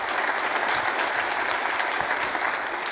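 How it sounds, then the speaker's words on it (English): Audience applause at a talk about environmentalism, a dense, steady wash of many hands clapping, fairly loud and close, with no speech over it. "let's get an applause for that."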